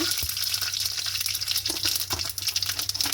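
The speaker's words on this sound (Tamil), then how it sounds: "எடுத்து வச்சிருக்கிற சீரகத்தையும் சேர்க்க போகிறேன் சேர்த்து இருக்க பொரிய வச்சுட்டு" Cumin seeds frying in hot oil in a pan for a home-cooked dish, giving a steady close sizzle with soft crackling pops throughout, no talking.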